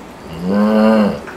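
A single low, drawn-out droning call voiced by a person, imitating a bullfrog; deep and resonant, swelling then fading over about a second.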